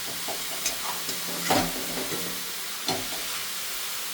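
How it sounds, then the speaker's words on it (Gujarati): Grated bottle gourd frying in ghee over a high gas flame for halwa, a steady soft sizzle with a few stirring scrapes, heard close and alone. "એકદમ ફાસ્ટ ગેસે આપણે એને ઘીમાં શેકાવા દેશું"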